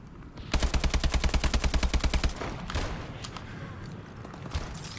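A remote turret in Call of Duty: Advanced Warfare fires a rapid, evenly paced burst of about two seconds of loud automatic gunfire, followed by quieter game ambience.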